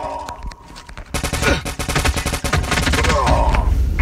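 Rapid automatic gunfire from the Call of Duty Mobile video game bursts in after about a second and then rattles on loud and dense, with overlapping volleys to the end.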